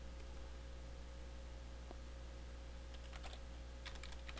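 A few faint, quick computer keyboard clicks come in short clusters near the end, over a steady electrical hum and room noise.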